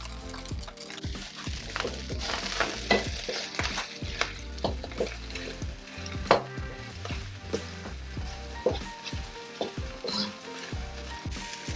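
Thai salt fish fried rice with kale stir-frying in a hot pan gives a close, steady sizzle broken by repeated scraping and tossing of the spatula against the metal.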